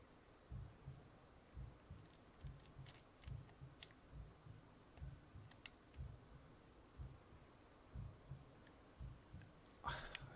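A faint, slow heartbeat pulses in a steady low thumping rhythm within the video game That Dragon Cancer, quiet under a soft hum with a few light ticks and a brief louder noise at the end.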